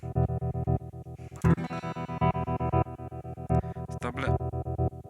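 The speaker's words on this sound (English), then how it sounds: "It's quite a nice effect." A BOSS GT-1000 slicer effect on a dry electric guitar, straight after the amp with no reverb, chops the notes into a fast, steady stream of rhythmic pulses with a few louder strummed accents, played alone.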